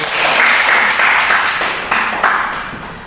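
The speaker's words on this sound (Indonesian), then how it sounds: "Beri tepuk tangan untuk kelompok 1." Classroom applause from a group of students, a dense wash of clapping that stays loud and steady for about three seconds before tapering slightly, with no voices over it.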